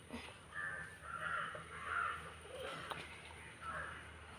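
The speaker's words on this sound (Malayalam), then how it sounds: "കാക്കക്കൂട്ടം നിറയുണ്ട്" A flock of crows caws repeatedly, several harsh calls overlapping at moderate distance against quiet outdoor ambience, with cats nearby during a scuffle over chicken.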